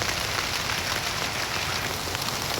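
Heavy rain falls on a school vegetable garden, a dense, loud, unbroken hiss of drops on the surfaces, with no voices.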